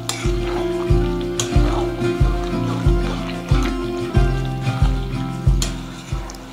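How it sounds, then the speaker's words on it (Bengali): Spices and slit green chilies stirred and sautéed in a pan for dahi chicken, with a steady sizzle broken by regular rhythmic scrapes of the spoon against the pan, close and fairly loud. "এবারে সব কিছু খুব ভালো করে নাড়াচাড়া করে কষাতে থাকবো।"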